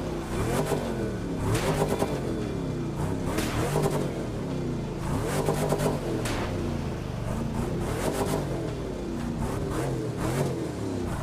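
The engine of a Cadillac Cyclone XP-74 concept custom in The Crew 2 revs over and over, loud close swells that climb and fall in a repeating rhythm, with no talk over it.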